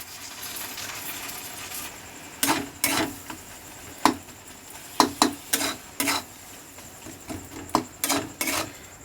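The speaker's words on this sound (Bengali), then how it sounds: "তেল বেরোনো পর্যন্ত নাড়বো" A spoon scrapes and stirs soya chunks and egg curry in oil with spices in a pan, repeated clacking strokes coming in bursts under a low steady sizzle, close and alone.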